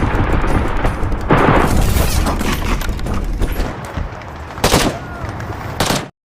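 Gunfire and explosions from an action film: heavy booms and bursts of rapid shooting crowd together in a loud, dense barrage, with sharper blasts standing out near the end before the sound cuts off abruptly.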